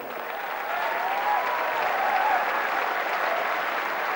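A tennis crowd at Queen's Club applauds a point in the 2008 Ward versus Safin match, a warm continuous wash of clapping that swells slightly and holds.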